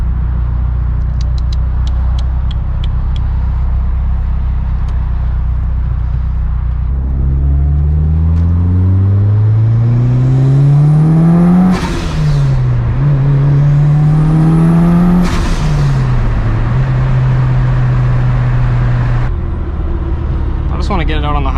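An EVO on its first drive from pickup, the engine revving up through the gears with rising whine, clear drops at each shift, and steady road and cabin noise throughout, loud and close from inside the car.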